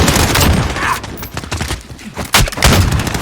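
Rapid bursts of MP5 submachine gun fire in Call of Duty: Modern Warfare, loud and close, with short pauses between strings of shots and no talking.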